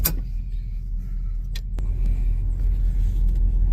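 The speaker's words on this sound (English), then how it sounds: "We're just going to drive around here on the ranch." An old car that has not been driven in 50 years rolls around a ranch with its hood off and without brakes, its engine giving a low steady rumble with a couple of sharp clicks near the start.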